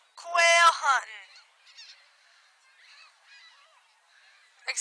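Seagulls call loudly up close in a harsh, honking burst of squawks, then fainter scattered cries follow over quiet background before another sharp call at the end.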